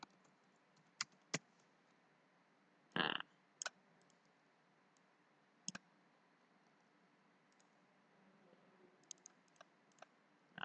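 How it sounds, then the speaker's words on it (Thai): Mouse clicks in SolidWorks: sparse, sharp, faint clicks scattered across a quiet background, with one brief louder burst in the middle and small clustered clicks near the end. "ผู้เขียนเราก็ดับเบิลคลิกเข้าไป"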